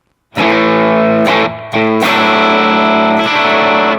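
A handmade Bonham electric guitar made from repurposed tonewood plays through a 1965 Fender Deluxe Reverb amp, ringing loud chords with sustained harmonics, a brief dip in level midway, then strumming on.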